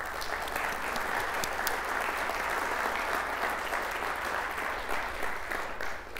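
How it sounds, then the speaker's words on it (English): A university lecture audience applauds steadily for several seconds, a dense, even wash of clapping heard from a distance at moderate volume. "Let's give them a round of applause for the work they do."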